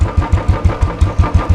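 A 2013 Royal Enfield Classic 350 motorcycle engine starting up and catching into a loud, even thumping idle, close by with about eight regular beats, no voices.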